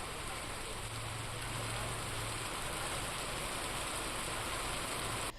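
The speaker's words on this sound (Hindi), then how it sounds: "घंटों से लगातार हो रही है भारी बारिश" Heavy, continuous downpour during hours of nonstop rain in Uttar Pradesh, a dense, even hiss of rain on surfaces with a faint low engine hum beneath, steady throughout.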